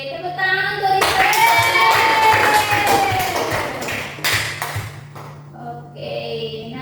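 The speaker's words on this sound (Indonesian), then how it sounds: "tepuk tangan untuk Riva" A class in an Indonesian biology lesson applauds a student with top marks, giving several seconds of loud, dense clapping from many hands before it tapers off into scattered claps and voices.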